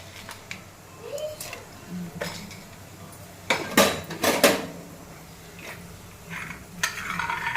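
Tempering seeds are tipped into hot oil in a home kitchen pan, giving faint crackling and sizzling among scattered clinks and scrapes of a metal pan and spoon, with a couple of louder clatters midway.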